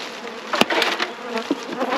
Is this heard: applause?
no